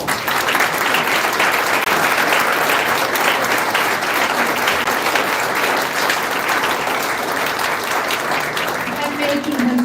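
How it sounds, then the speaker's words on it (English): Sustained applause from an audience at a Tucson city council meeting honoring firefighters, a dense steady wash of clapping that holds loud and even for the whole stretch with faint voices beneath. "Let's give them a round of applause."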